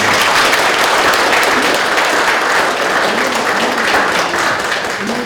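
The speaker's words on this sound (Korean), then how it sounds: "여러분 박수 부탁드립니다." Sustained applause from a large audience at a year-end party, loud and dense, continuing steadily throughout with faint voices mixed in.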